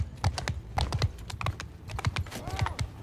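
Horse hooves clip-clopping in the Mount & Blade II Bannerlord video game during a battle, a quick irregular run of sharp, close hoof clicks layered over a light background din.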